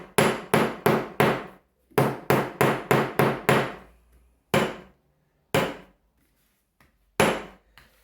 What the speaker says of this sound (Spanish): le pegamos, pero el martillo en forma recta